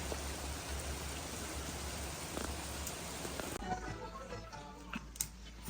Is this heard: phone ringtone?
no